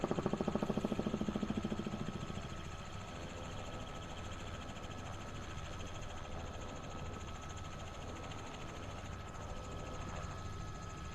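Helicopter in Microsoft Flight Simulator 2024, a steady close rotor chop and engine drone heard from the cabin, slightly louder at first and then even for the rest of the clip, with no talking.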